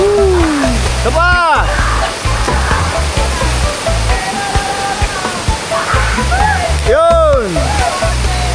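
A mountain stream in the Philippines rushes loudly and steadily nearby, with excited voices shouting over the water now and then.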